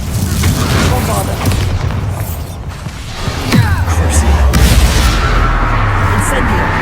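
Bombarda spell explosions in the Hogwarts Legacy video game, deep booming blasts with rumbling debris and crackling mechanical clatter, a heavy impact rising near the middle, amid game combat noise and a spoken incantation.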